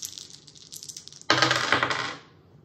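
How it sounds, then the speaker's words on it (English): Dice are rolled in the LCR dice game: a quick clatter and rattle as they tumble across a hard surface, loud and close, then dying away after about a second. "Again, you roll the dice and do what they tell you to do."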